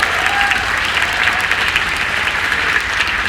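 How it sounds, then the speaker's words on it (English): An audience at a programming talk breaks into a round of applause for the creator of JavaScript, loud, dense and steady clapping filling the room throughout. "can we give a round of applause to the creator of JavaScript?"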